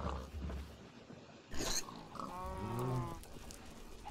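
Pigs oinking in Minecraft, a short burst of grunting snorts rising over a soft game background with farm animals nearby.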